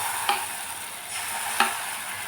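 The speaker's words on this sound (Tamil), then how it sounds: "இந்த இனிப்பு ஆப்பத்துக்கு ஊற்றிக்கிடுவோம்." Ragi batter hits a hot pan for sweet appam and crackles with a steady hiss, two soft splashes from pouring punctuating the continuous sizzle.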